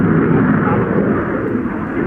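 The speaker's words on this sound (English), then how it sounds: "The Raptor is unmatched in a vertical fight as it carves through a loop and doubles itself." An F-22 Raptor jet carving a loop at an airshow, its twin engines producing a loud, continuous broadband roar that holds steady throughout without breaks.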